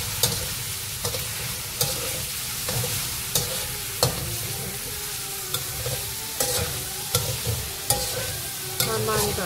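Sliced garlic is stir-fried in a dry, under-oiled wok, with a continuous crackling sizzle broken by regular sharp scrapes and knocks of the spatula against the metal.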